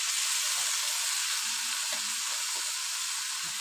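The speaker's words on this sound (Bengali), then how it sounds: "সিমের বিচি ভালোভাবে মশলার সাথে কষিয়ে নিই।" Broad bean seeds frying with spices in a pan for a curry with shing fish give off a steady, moderate sizzle, with faint scraping sounds from stirring. The sizzling continues without a break.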